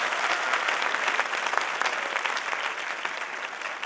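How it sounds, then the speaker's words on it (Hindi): Loud, steady applause from a large crowd, dense and continuous clapping throughout with no pauses. "सारे लोग मिलकर इनसे शानदार तालियां"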